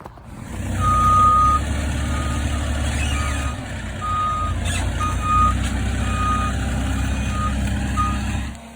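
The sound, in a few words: lumber delivery trucks arriving at build site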